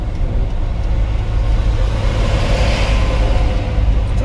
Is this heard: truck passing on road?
yes